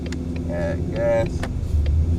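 A Ford Mustang GT350 with a manual transmission hums steadily from the cabin, its engine tone rising slightly as gas is added, while a person talks over it.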